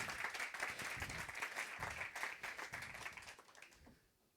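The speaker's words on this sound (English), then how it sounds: "I think we should start by giving you a big round of applause" Audience applause for a speaker at the Django Day Copenhagen 2024 tech conference: steady, dense clapping that holds for about four seconds before tapering off quickly.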